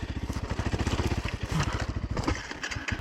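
Beta RR 125 LC enduro motorcycle pulling away on rough terrain as the rear tyre regains grip, its two-stroke engine revving in a rapid, loud pulsing burst close by.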